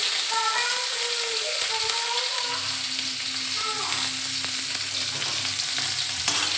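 Onion fries in hot oil in a pan for an Odia saag dalma, giving a steady, close sizzle with faint stirring scrapes throughout.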